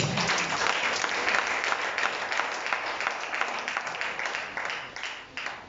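A church congregation applauds the Lord in sustained, dense clapping that fills the space steadily and fades slightly toward the end, with no speech over it.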